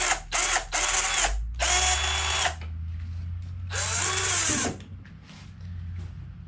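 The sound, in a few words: HYCHIKA cordless drill tightening its keyless chuck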